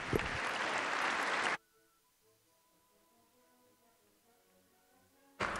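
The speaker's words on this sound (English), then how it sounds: "if we could give Gavin a round of applause" A round of applause for Gavin from a meeting audience, loud dense clapping for about a second and a half, then a quiet gap, with the clapping starting again at the very end.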